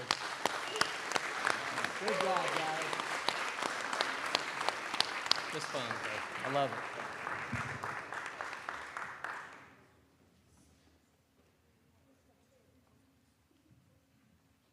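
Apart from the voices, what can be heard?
applause for a group of boys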